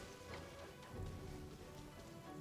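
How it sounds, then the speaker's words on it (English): Rain falling in the video game Genshin Impact, a soft, steady patter of drops on surfaces, faint and continuous with no voices. "Rain is just such a wonderful thing in this game."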